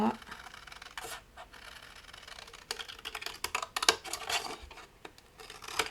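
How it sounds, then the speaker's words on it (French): Large scissors snip through material while a box cover is made, giving a run of close, crisp cuts and rustles in irregular bursts, with a voice talking at times. "Faire avec les grands ciseaux, ce sera plus simple parce que je pourrais les couper d'une fois."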